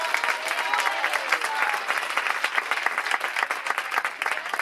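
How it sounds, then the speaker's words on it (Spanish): A church congregation claps steadily and energetically in rhythm, dense continuous applause filling the room at close range, with faint voices underneath. "palmas para o Senhor Jesus bem alegre."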